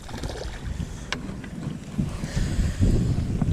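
Wind buffets the microphone during trout fishing by very clear water, a continuous low rumbling gust with slight swells and a faint rustle, growing a little stronger toward the end, with no one speaking.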